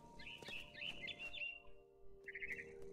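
Birds chirp in What Remains of Edith Finch: a run of high, quick tweets rises over a low in-game hum, breaks off briefly, then comes back as a shorter burst of chirps.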